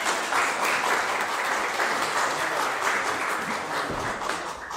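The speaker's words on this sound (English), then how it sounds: "Yes, please applaud." An audience at a Unitarian Universalist church gathering applauds after musicians perform, a dense, steady wash of many hands clapping at moderate distance for several seconds, tapering slightly toward the end.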